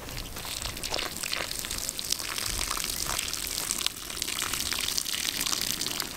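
Hot water is poured in a steady, continuous splashing rush over a garden irrigation fitting, close and fairly loud for several seconds, with no voices.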